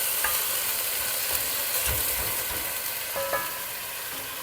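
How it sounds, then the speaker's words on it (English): Meat sears in a hot pan for an Italian slow-cooked meat sauce, a close, continuous crackling sizzle with occasional scraping and stirring knocks, no one talking. "So first we're going to sear the meat so that we could lock in the flavor."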